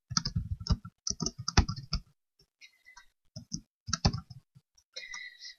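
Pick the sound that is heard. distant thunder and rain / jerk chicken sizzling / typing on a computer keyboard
typing on a computer keyboard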